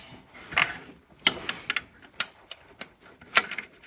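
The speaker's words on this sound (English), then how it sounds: "This is probably the worst ratchet for the job." Ratchet clicking in short bursts as a socket turns a bolt on a 1987 Pontiac Fiero 2.8 engine during a belt slip eliminator pulley install; sharp, close metallic ticks spaced irregularly with pauses between strokes.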